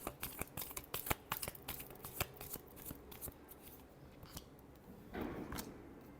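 Tarot cards are shuffled up close in quick bursts of riffling flicks and soft slaps, quiet overall, ending in a brief papery rush.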